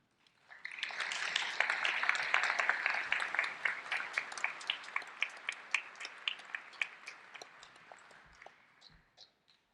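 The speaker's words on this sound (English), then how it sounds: "Dr. Cohen, please stand for a round of applause" Audience applause at a medical school commencement ceremony rises quickly into dense clapping, then thins into scattered individual claps as it fades toward the end, heard at a modest distance.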